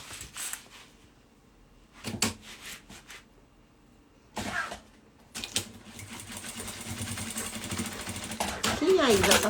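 Sewing machine stitching a women's handbag, heard in short bursts separated by pauses and then running steadily toward the end, with someone talking between and over the stitching.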